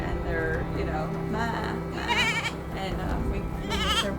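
Young goats being bottle fed on a farm rescue in Lebanon, Connecticut bleat several times, high wavering cries close by under a woman's speech.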